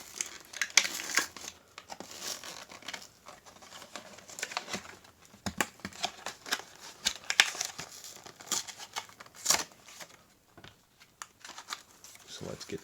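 Majorette Mustang toy car card packaging is torn and crinkled open in bursts of crackling, ripping paper and plastic, close and loud, with brief pauses between rips.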